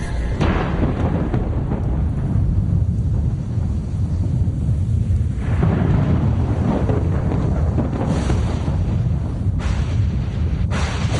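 Deep, loud thunder from a lightning bolt rumbles continuously and fills the whole stretch, swelling and rolling with no voices over it.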